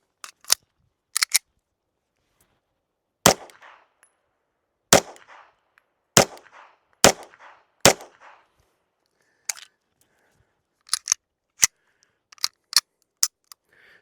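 Sharp 9mm pistol shots firing 147-grain cast lubricated bullets, about fifteen reports in irregular clusters with short pauses, each a crisp loud crack with brief ring-out, no voices.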